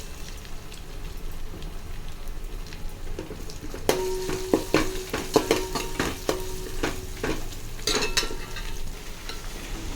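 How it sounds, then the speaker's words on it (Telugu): Onions fry in oil for a chicken dum biryani, with a soft, even sizzle at first, then louder scraping and clattering from stirring about halfway through, continuing over the sizzle. "ఆనియన్స్ అయితే ఫ్రై చేసుకుంటున్నా"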